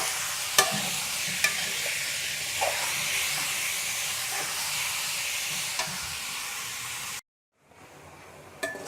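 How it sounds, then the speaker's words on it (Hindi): Chicken pieces fry with garlic in a pan for an achari chicken filling, a constant loud hiss with occasional sharp clicks of a spoon stirring, before a sudden drop to near silence and a faint return. "अब हम इसमें चिकन शामिल करेंगे और चिकन को हम तब तक फ्राई करेंगे जब तक इसका कलर चेंज ना हो जाए।"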